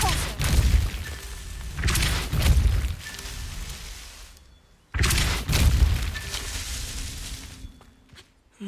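Depulso spell cast in Hogwarts Legacy, two heavy booming impacts a few seconds apart, each with a rumbling crash that fades before the next.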